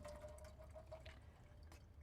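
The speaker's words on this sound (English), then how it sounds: "The important thing is to drain this and then rinse them a little bit." Liquid from canned water chestnuts drains and rinses in a soft, continuous trickle with faint drips and splashes, quiet and close, with no talk.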